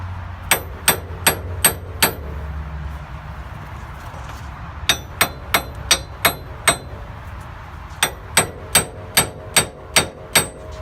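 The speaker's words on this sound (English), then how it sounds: "I'm just going to go ahead and get a regular hammer" Sharp metallic hammer strikes ring out in three quick bursts of about five blows each, loud and close, with short pauses between, knocking a rusted front wheel hub off a Mitsubishi Lancer Evolution X.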